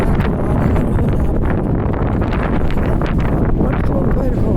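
Gusty wind buffets a microphone outdoors near the Dartmouth–Halifax waterfront, a loud, continuous rough rumble with surging bursts throughout.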